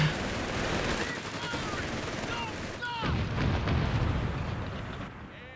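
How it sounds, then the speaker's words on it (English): Artillery barrages and gunfire in a Company of Heroes 3 battle, a dense, continuous rumble of blasts and crackling shots with no let-up, while a voice speaks over the top. "artillery applying some pressure"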